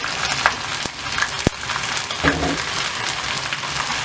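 Fresh mutton sizzles steadily in a pan for karahi gosht, with a dense, even frying hiss and a few soft clicks of stirring close by.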